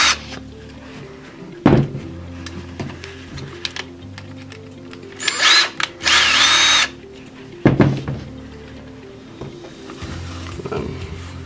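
A power driver whirs in short bursts while backing out two small set screws on a front dog harness, with two sharp brief spins early and late and a longer loud buzzing run in the middle, among quiet handling clicks.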